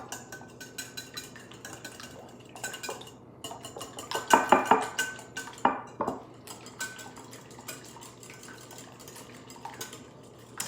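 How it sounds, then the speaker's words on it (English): A whisk blends eggs, cinnamon, vanilla and milk in a bowl, giving a few clinking, scraping strokes at middle distance that bunch into a louder burst partway through, over quiet room noise. "now I'm going to take my whisk and blend up the eggs, cinnamon, vanilla, and the milk"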